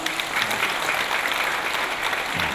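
Steady, even applause rises from a church congregation welcoming newcomers during a Sunday service, many hands clapping at moderate distance without any voices over it.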